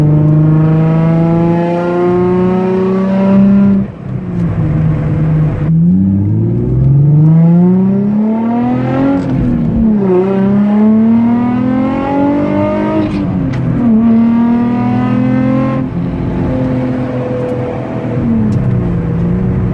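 A Nissan 350Z with an ISR blast pipe exhaust revs repeatedly, deep and throaty, the pitch climbing and falling in long sweeps, loud and close with no talking.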